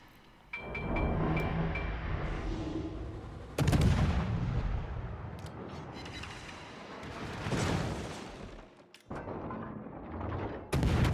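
Warship guns boom in World of Warships as a Japanese IJN Asashio destroyer fires from smoke, several heavy blasts spaced apart with rumbling tails, loud and close, with no talking.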